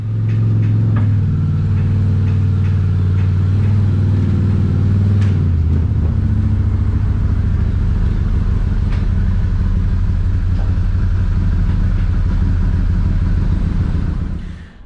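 A side-by-side's engine drones loud and close as it drives into an enclosed trailer, a steady low rumble that shifts pitch around six seconds and holds until it cuts off at the end.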